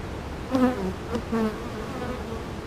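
Honeybees buzzing in an open hive during an inspection, a steady close hum with a few louder passes swelling over it.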